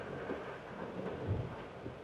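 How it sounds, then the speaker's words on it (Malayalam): Heavy rain pours over a forest route near Satram village on the way to Sabarimala, a dense, steady roar with deep low rumbling, faint and continuous, no voices. "ഈ മഴ ഇരട്ടിയായിട്ടോ"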